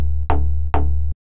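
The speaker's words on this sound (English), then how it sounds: "They sound something like this, just one-shot synth hits." Two identical synth pulse hits, each a sharp bright attack that sustains briefly and then cuts off, spaced a little under half a second apart, with no voices.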